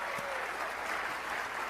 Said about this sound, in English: Let's give another round of applause to the band over here